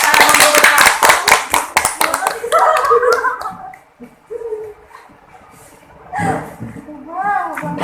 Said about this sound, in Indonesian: tepuk tangan dulu buat nomor